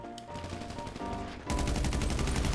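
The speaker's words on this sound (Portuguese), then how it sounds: "Ele tomou um tiro na cara, o RD, pô" Continuous automatic gunfire in the video game GTA V Online, heard during a deathmatch, with rapid rattling shots that grow louder and denser partway through, with no talking over it.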